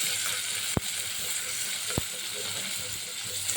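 Tomato added to frying onions in a pan sizzles as a steady hiss, with a couple of sharp clicks from a utensil against the pan.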